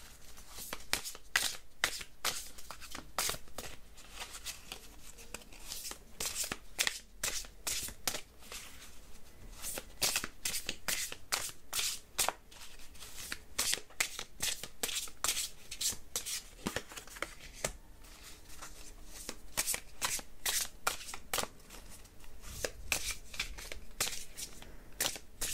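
Tarot cards being shuffled by hand, a steady run of crisp, rapid riffling snaps and papery flutters, close and fairly loud throughout with no talking.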